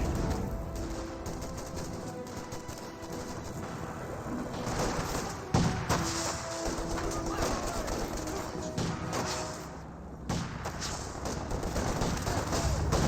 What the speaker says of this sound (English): receiving a massive hit there from the Sherman tank